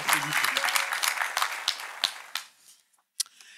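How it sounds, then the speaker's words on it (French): A group applauds at a school gathering at a college in Porticcio, Corsica: dense, lively clapping close by that thins out and fades, leaving a few scattered claps at the end. "Applaudite."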